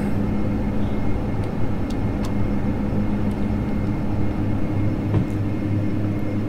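Steady loud turboprop drone of a Majestic Dash 8 airliner climbing after takeoff in the FSX flight simulator, a continuous low engine hum with faint clicks, no talk.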